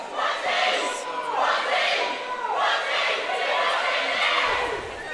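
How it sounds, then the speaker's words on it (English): Roller derby crowd at a World Cup bout cheering and roaring for West Indies, a loud sustained wall of shouts and whoops that swells and stays high throughout. "The crowd's up for it. They've responded."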